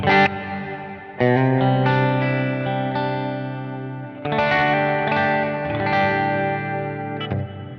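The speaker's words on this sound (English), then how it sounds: "is to use a nice reverb, stereo reverb, that doesn't take up a lot." Sustained, distorted electric guitar chords through a stereo reverb on a Line 6 Helix Stadium XL ring out with a wide, spacious wash, each chord blooming and fading into the next.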